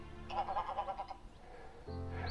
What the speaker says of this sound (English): there's a big greylag population around here, and they're absolutely going at it.